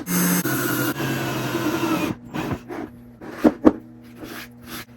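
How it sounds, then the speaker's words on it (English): A power drill whines steadily for about two seconds drilling holes in plastic for a pond skimmer, then stops; a few short clattering knocks and handling noises follow close by. "I'm going to start by drilling holes in the corners."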